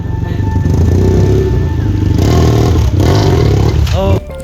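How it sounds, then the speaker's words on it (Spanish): A motorcycle engine idles and revs loudly and close by in a house in Ollantaytambo, Peru, with clattering and people talking over it before the engine cuts near the end. "La segunda era meter la moto hasta la sala de la casa del señor"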